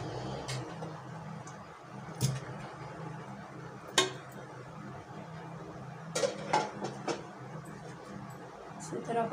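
Bones being dropped into a pressure cooker while preparing beef grill for Bakra Eid, heard as a few sharp metallic clinks and knocks spaced apart over a steady kitchen background hum.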